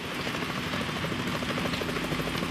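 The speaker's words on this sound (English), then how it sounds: "Is that a chopper I just heard?" A helicopter in the video game Metal Gear Solid 2: Substance produces a steady, dense rotor thrum with rapid chopping pulses, moderately loud and continuous without speech.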